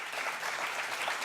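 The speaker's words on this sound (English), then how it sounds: "let's give him a big round of applause" An audience at a panel discussion applauding, a dense, even wash of many hands clapping at moderate distance, brief and without talk over it.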